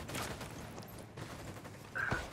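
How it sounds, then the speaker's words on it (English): Rattling bursts of gunfire in a shooter video game, a dense run of shots with one sharper ringing report near the end, heard over steady background game ambience. "Taking a shot."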